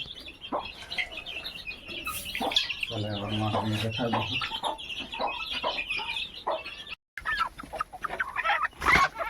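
Free-range chickens roaming an open field on a poultry farm in Purulia, with a rooster crowing loudly mid-clip among scattered clucks and chirps, close and outdoors, with a brief cut near the end.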